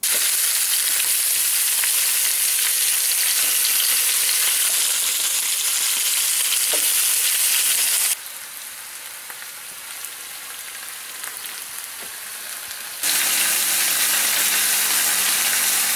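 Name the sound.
chicken ingredients quickly roasting in a pan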